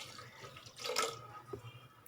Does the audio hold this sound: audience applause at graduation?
no